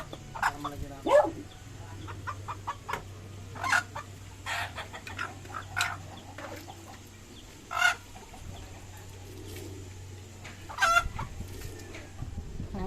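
Several chickens cluck and squawk intermittently over a low steady hum, with occasional louder calls punctuating the scene.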